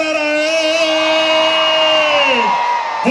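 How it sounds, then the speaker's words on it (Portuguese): Concert crowd at a show letting out a long, loud sustained whoop and cheer, steady for about two and a half seconds before trailing off, with voices merging into one roar. "Cadê o gritão da galera aí?"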